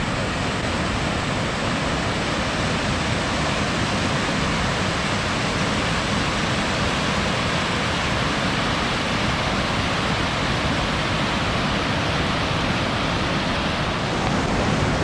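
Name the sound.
waterfall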